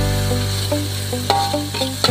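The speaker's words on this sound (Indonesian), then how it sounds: "Jadi ini aku pakai minyak sisa dari goreng ikan tadi. Kita tumis seperti ini sampai baunya harum." Spice paste sautéing in leftover fish-frying oil in a pan, a steady close sizzle broken by light scrapes and clicks of stirring, with no talk.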